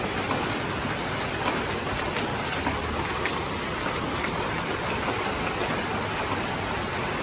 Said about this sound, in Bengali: সেই কালকে রাতের থেকে বৃষ্টি পড়ছে